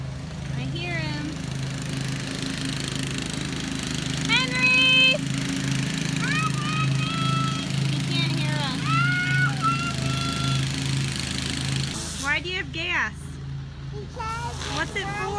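A string trimmer runs outdoors on a nice day, its steady engine drone holding throughout while children and an adult talk over it nearby.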